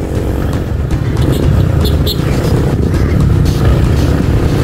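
A motorcycle passes by at a busy municipal hall, its engine a loud, steady drone that swells slightly and holds for several seconds, with faint background noise around it.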